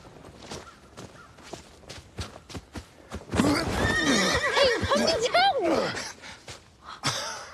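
Horse in the TV series Willow: hooves clop in a steady walking rhythm, then a loud, long whinny with rising and falling tones rings out close by, followed by more hoofbeats.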